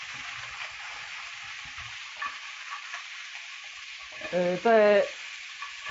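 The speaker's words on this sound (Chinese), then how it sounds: "然后大家就可以小心的把排骨放在炒锅当中。" Pork ribs frying in hot oil in a wok, a steady close sizzle throughout with a brief louder hiss and crackle near the end as the meat settles, and a word spoken over it.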